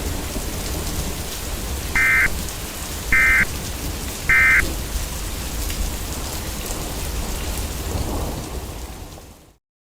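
A heavy thunderstorm in Los Angeles pours steady loud rain with low rumbling thunder throughout, interrupted by three short identical electronic alert tones, then cuts off abruptly.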